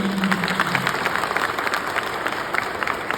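Steady applause from an audience at the inauguration of a fatty liver clinic at a hospital, with dense continuous clapping throughout and no speech over it.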